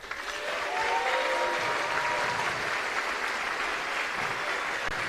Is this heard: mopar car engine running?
no